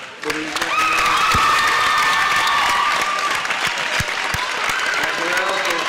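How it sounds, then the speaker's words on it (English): A crowd at a high school boys basketball senior recognition applauding and cheering, loud sustained clapping with voices mixed in and a few sharp knocks. "how about a big round of applause for these young men?"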